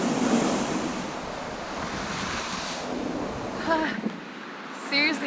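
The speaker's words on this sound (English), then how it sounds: "one of those waves that startled me so bad" Sea waves crash and wash continuously in the Irish Sea seen from a sailboat, a loud broad surf roar mixed with wind buffeting the microphone, with brief voices near the end.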